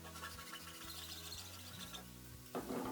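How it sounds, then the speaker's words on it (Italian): A hacksaw cutting a plastic pipe, giving a soft, quiet rasp of repeated back-and-forth strokes, close up and without talk. "Con una sega a ferro tagliamo il tubo di plastica"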